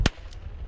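A pyrotechnic bird banger used at an airport to scare wildlife, mimicking a shotgun: one sharp, loud crack followed by a fainter second report, then a brief low tail.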